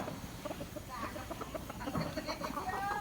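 Chickens cluck close by in a rural hill village in southern Laos, with quick irregular clucks and faint murmuring voices in the background.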